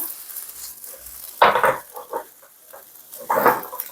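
Vegetables, green onion and pork belly stir-fried for rosé tteokbokki, two bursts of close sizzling scrapes against a low steady frying hiss.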